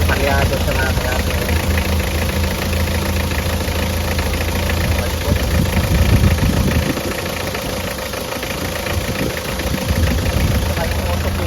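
A Mitsubishi 4D56 diesel engine idles roughly with a misfire, giving a loud, close, continuous clattering rumble with uneven pulses throughout, while someone talks over it.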